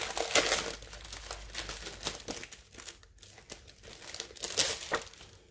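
Christmas wrapping paper crinkles and crackles as it is handled, in dense, close bursts that keep going throughout, with a louder rustle near the start and again near the end.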